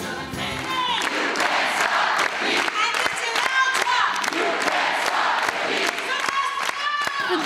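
An audience at the Hairspray musical premiere in Cologne's Musical Dome cheers wildly, with whoops, shouts and claps in a dense, sustained roar from a large crowd.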